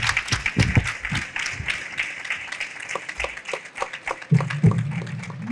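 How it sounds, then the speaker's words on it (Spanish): An audience at a book presentation at FIL Monterrey 2022 claps for Gus Marcos in scattered, uneven bursts of hand claps that thin out and then pick up again, with no talking. "Un aplauso a Gus, por favor, güey"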